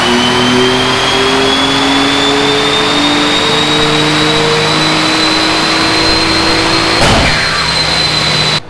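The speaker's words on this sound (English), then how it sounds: "It's hitting two-step because my speed sensor, I think, stopped working" Twin-turbo 6G72 engine of a built Mitsubishi 3000GT VR4 held on the two-step limiter on a dyno, a loud, steady rev-limited drone that rises gradually in pitch, with a sharp burst near the end.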